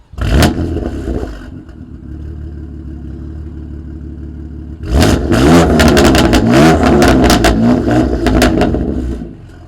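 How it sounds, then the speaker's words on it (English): A 2020 F87 BMW M2 Competition in Long Beach Blue, fitted with an Active Auto Works exhaust, gives a sharp rev and settles into idle, then fires a rapid series of loud, snarling throttle blips close by. "now we're gonna go ahead and hear what this Active Auto Works exhaust sounds like on this M2 competition"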